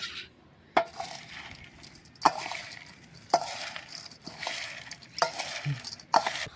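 Bhel being tossed with an added paste, a spoon scraping and clinking against a metal bowl in close, irregular strokes with several sharp knocks, heard in a village setting.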